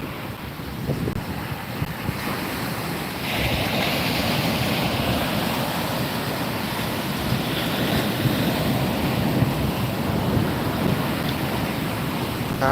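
Ocean surf breaks on a beach at night during surf fishing, a constant rushing roar of waves. Heavy wind buffets the microphone, and the wash grows louder after the first few seconds.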